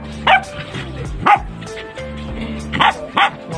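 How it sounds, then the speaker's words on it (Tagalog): A dog barks four times, loud and close, in two pairs spaced a few seconds apart. A steady background hum runs between the barks. "Magkakaroon na itong baby namin na aso."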